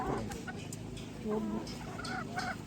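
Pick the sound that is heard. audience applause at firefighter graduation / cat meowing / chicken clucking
chicken clucking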